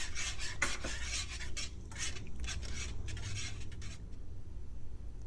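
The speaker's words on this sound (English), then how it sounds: "I add the milk and I continue stirring until I get the desired consistency" A spoon or whisk stirs crepe batter with added milk in a bowl, making a steady close-up rasping and scraping rhythm with light clinks against the sides and no voices.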